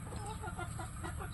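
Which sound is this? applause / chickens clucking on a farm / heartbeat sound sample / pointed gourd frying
chickens clucking on a farm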